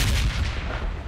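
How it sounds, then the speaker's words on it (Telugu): Bomb blasts in the mobile battle-royale game PUBG Mobile, heard as a continuous low, rumbling boom with crackling debris noise, loud and sustained through the moment with no talking over it. "బాంబ్ పడింది."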